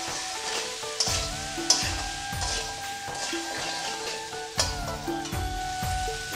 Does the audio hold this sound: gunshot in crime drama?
no